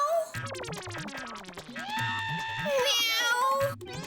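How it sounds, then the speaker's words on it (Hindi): A cat meows repeatedly over a busy comedic scene, its cries mixed with a playful, bouncy music bed and sound effects, fairly loud and near. "अभी अभी सुना ना, म्याऊ म्याऊ।"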